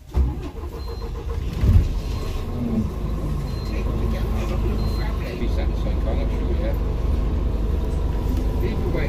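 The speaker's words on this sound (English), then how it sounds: "So off we go on my first Scania E400 that's not with stagecoach." A Scania E400 double-decker bus drives along with a steady engine drone and road rumble. A brief knock is heard early on.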